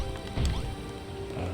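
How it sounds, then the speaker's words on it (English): Blocks being smashed apart in Dragon Quest Builders 2, a few dull thwacks and crunches over a steady low game background, no talk. "Unfortunately, I'm also smashing a lot of it all apart."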